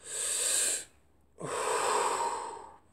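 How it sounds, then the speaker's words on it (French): Slow, deep breaths drawn through the nose and mouth during a guided breathing exercise, two long airy inhalations separated by a short quiet gap, close and soft, with no talking. "On inspire correctement"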